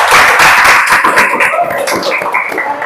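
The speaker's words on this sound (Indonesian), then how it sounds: "Kita berikan tepuk tangan yang meriah." Steady applause from a crowd in a classroom teaching session, dense and continuous throughout, fairly loud with no voices standing out.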